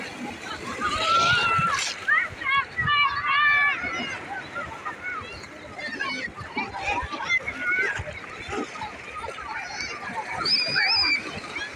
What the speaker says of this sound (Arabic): هانتوما شوفوا البحر